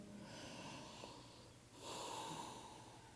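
Slow, deep breaths during a yoga practice, a long airy inhale followed by a fuller, louder exhale, soft and close with a faintly wheezy, nasal edge and no talk.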